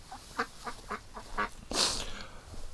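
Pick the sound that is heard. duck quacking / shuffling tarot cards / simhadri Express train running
duck quacking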